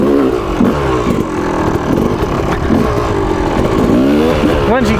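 Yamaha YZ 250 two-stroke dirt bike engine revving loud and close, a rough buzzing drone that rises and falls in pitch, with a person talking over the engine noise.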